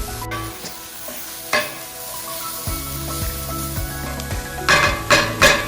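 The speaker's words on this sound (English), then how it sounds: "Now I'm going to add the garlic for another 1 minute to 2 minutes." Garlic sizzles in a pan with browned ground beef for stuffed peppers, a close, bright hiss broken by stirring scrapes and sharp bursts of crackle near the end, no voices.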